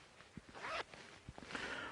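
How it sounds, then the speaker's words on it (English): A YKK zipper on the inner pocket of an Arc'teryx Atom LT hoody gives quiet, raspy zipping strokes, with light fabric rustling and handling taps around them. "Again, YKK zipper."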